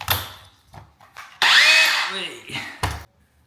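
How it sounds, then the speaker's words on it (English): Big Bosch SDS drill driving a hole saw through a ceiling with Celotex insulation to cut downlight holes, with a loud sustained whine rising and falling over about a second and short bursts around it, plus someone talking briefly. "we are using the Big Bosch SDS just because the hole saw arbor's stuck"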